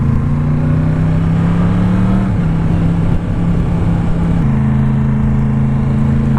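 Steady engine drone from a Yamaha MT-10 SP motorcycle being ridden, a loud continuous tone that dips briefly mid-pass and shifts to a slightly different pitch near the end, with wind rush underneath and no speech.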